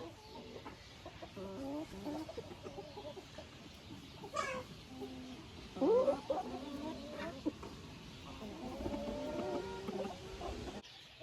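Hens that have finished moulting and started laying, heard as soft clucks and chicken calls scattered through a quiet coop, with a sharper squawk near the middle and faint background noise.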